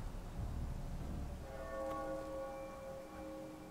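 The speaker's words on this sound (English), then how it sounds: "I guess that's what that bell means." A church bell rings at a moderate distance, its sustained tones and overtones entering about a third of the way in and lingering over a low rumbling background, with no voices.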